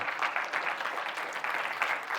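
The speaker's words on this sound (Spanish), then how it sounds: "Dale un aplauso al Señor, hermano." A church congregation claps during a Sunday service, giving a fairly loud, dense round of applause that swells and dips in rhythmic waves with no speech on top.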